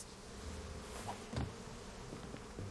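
Buzzing bees in the video game Psychonauts 2, a faint steady insect drone set against a quiet game ambience, with a few soft thuds and clicks.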